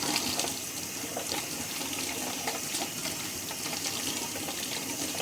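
Tap water runs steadily into a sink as butter is rinsed off hands, a continuous close splashing rush with small irregular spatters and no talking.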